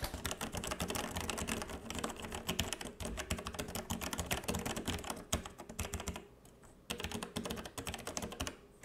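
Continuous rapid typing on a Logitech G Pro keyboard, close and crisp with dense clicks and a short pause near the end, no voices.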